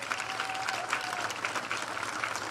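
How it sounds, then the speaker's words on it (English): Dense, steady applause from an audience at a district fastpitch softball championship, honoring all-district team members, filling the whole stretch evenly without a break. "How about a round of applause?"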